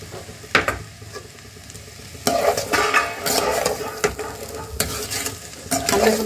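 Bitter gourd and chana dal sizzle and fry in a pan while a spoon stirs and scrapes in repeated bursts, with a steady frying hiss underneath.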